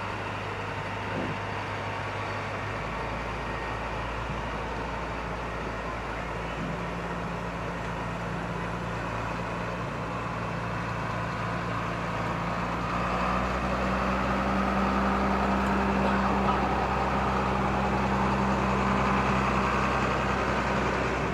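A decorated farm tractor in a holiday tractor parade, its diesel engine idling and rumbling low and steady nearby, growing slightly louder toward the end, with no talk over it.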